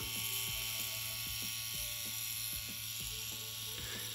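A Vlad Blad Ultron pen tattoo machine running at about 9 volts hums with a steady mechanical buzz, punctuated by regular ticking clicks, close and fairly quiet.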